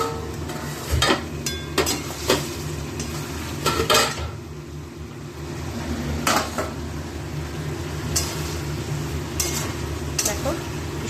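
A covered cooking pot is shaken by its lid, giving several sharp metallic clanks and rattles at irregular intervals over a soft background of kitchen noise.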